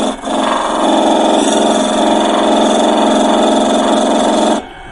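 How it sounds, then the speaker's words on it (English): A wood lathe spins steadily while a small detailing gouge cuts into the turning workpiece, a continuous close whirring hum that holds level for several seconds before stopping abruptly near the end. "This is a detailing gouge, so we're going to try a smaller one."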